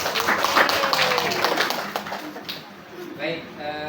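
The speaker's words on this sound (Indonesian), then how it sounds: "Tepuk tangan Bu Sil." A small group of women at a school training session clap their hands in a brief patter of claps near the start that fades out, with people talking over and after it.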